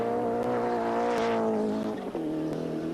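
Race car engine pulling hard up a mountain circuit climb in 1986 touring car racing, a steady loud harmonic drone from in-car with brief gear-change dips, no talking.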